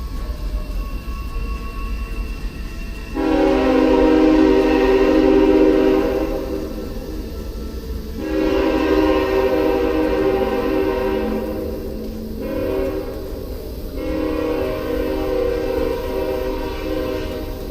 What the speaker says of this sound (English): There's that train on that track over there.